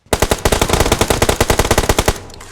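Rapid automatic gunfire from a shooter in the mobile battle royale game PUBG Mobile: a loud, close burst of evenly spaced shots rattling continuously for about two seconds, then stopping.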